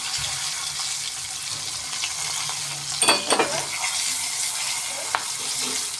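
Curry leaves, asafoetida and turmeric frying in hot tempering oil for a raw mango dal give a steady close sizzle, with a sharper crackling burst as the leaves go in partway through.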